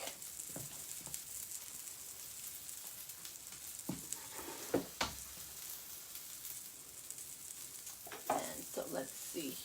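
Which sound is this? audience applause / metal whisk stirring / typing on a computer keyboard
metal whisk stirring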